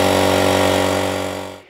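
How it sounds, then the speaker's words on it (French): An air compressor running at 97 decibels gives a loud, steady mechanical hum with a strong tonal drone, close by and alone, then fades and stops. "voilà par exemple le bruit d'un compresseur à 97 décibels"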